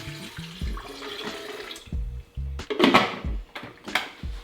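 Water poured from a container into a Nama M1 milk maker holding raw almonds, dates and pink salt, a short series of close splashing pours with brief pauses, loudest near the middle.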